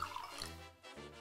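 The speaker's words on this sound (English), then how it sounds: "I want you to add quite a lot of water and then a little bit less in the next one" Water is poured into a row of glasses for a music-of-science experiment, a short liquid trickle with dripping, splashy texture and a brief pause before it resumes, close and fairly quiet.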